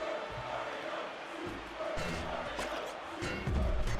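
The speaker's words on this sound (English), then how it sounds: "the crowd is currently chanting for the Kasanova Koopas" Stadium crowd chanting during a Mario Strikers soccer match, a steady roaring mass of voices that swells louder toward the end, with thumps and game effects mixed in.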